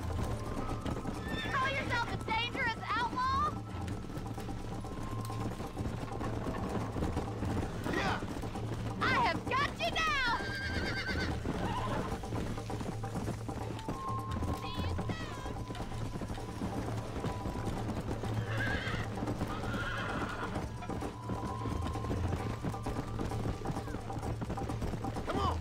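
A horse in the video game Red Dead Redemption gallops with steady clip-clopping hooves, neighing and whinnying several times, while someone talks over the game sounds.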